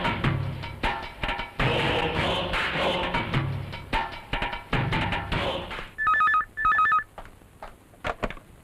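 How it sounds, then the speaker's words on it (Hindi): A telephone rings in a Hindi film scene, two short bursts of electronic ringing tones late in the clip, following a stretch of loud, busy background sound and music-like clatter. "किसका फोन है"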